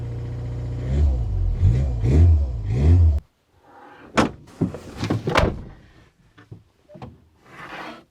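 A Trabant P60 car engine runs in a few deep, rhythmic surges for about three seconds and then cuts off abruptly, followed by sharp clunks and knocks.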